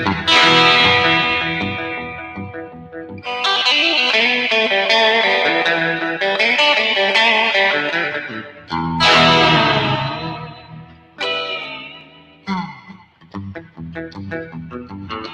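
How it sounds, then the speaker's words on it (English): A big surf-style electric guitar rings out loud and alone, its tone washed in effects, distortion, chorus and echo, with strummed chords and sliding notes that cut off and restart. "I just love the sound of these big surfy type of surf tones."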